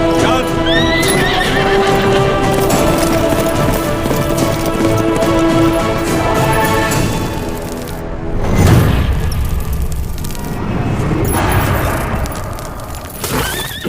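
Loud horse neighs and whinnies with hooves clip-clopping in a South Indian action movie, layered over dense dramatic music and effects, with a booming hit partway through.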